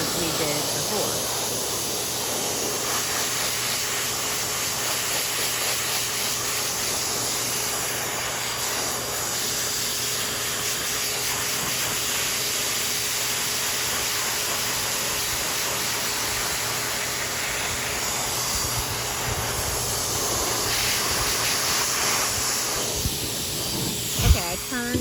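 Pet blow dryer fluffing a show dog's coat, a steady close rushing hiss of forced air running throughout, turned down low for the ears.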